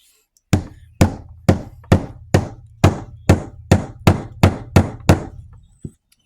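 A small toy tool chisels into a gem excavation block, eleven steady hard knocks about half a second apart, close and loud, followed by a quieter tap at the end.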